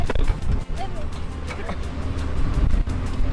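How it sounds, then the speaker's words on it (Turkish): Heavy wind buffets the microphone while riding on top of a vehicle along a rough road to a remote village, a loud continuous rumble with rattling thumps and someone talking over it. "Çünkü hem rüzgar var hem arabanın üstündeyiz."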